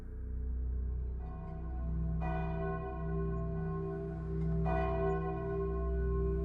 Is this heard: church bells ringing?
yes